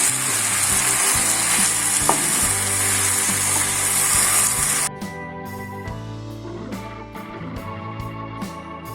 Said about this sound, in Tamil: இதையும் சேர்த்து நல்லா அது வந்து ஃப்ரை பண்ணி எடுத்துப்போம்.